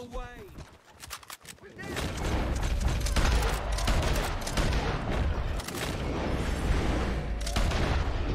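Bolt-action rifle shots ring out in a Red Dead Online shootout, several sharp cracks in quick succession among dense, continuous gunfire and booming, with a voice talking over the roar.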